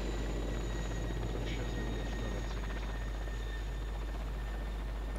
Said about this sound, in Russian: Прием, господа, вертолет свой?